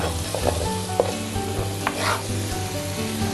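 Steady sizzling of onions frying in a hot pan, with a few clinks and stirring scrapes over the constant crackle.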